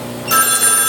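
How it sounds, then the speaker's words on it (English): A telephone starts ringing partway through, its bright, shimmering bell tone steady and fairly loud. It rises over the quiet hum of a room holding a Fluval Spec aquarium. "And there's my phone just in time for the video."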